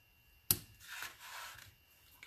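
Paper being trimmed with scissors while making a card: one sharp snip near the start, followed by soft rustling and scraping of card stock, close and quiet, with no talking.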